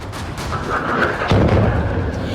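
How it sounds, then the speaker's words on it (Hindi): Explosions in Iranian cities captured in news footage: a continuous, loud rumbling roar with dull booming thumps, the heaviest blast arriving about midway and the noise staying dense to the end. "एक के बाद एक जोरदार धमाके से ईरान दहल उठा है।"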